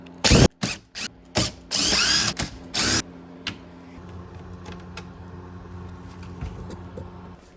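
A power tool works on the damaged front splitter of a Corvette C6, firing in several loud, short bursts and one longer run before it stops. Faint mechanical clicks and low hum follow, with no talk.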